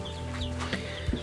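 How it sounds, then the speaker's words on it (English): Soft clucking from several chicks and Araucana hens close by in a chick shed, with a brief low call near the end. "here we are in the little chick shed"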